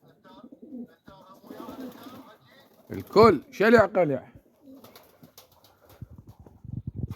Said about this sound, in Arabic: هاي الطيور ولا تعبانة